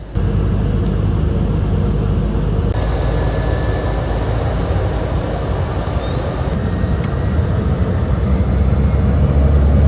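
Steady, loud engine roar from a small plane taxiing and taking off at Mafia airport, Tanzania, holding an even broadband drone throughout with a faint rising tone.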